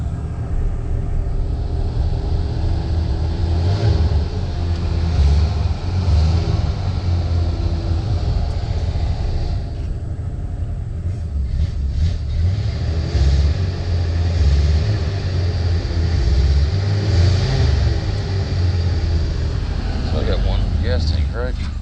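A 1979 Ford E250 van's engine runs with a steady low rumble throughout, a continuous mechanical drone that holds loud and unbroken while a person talks over it intermittently.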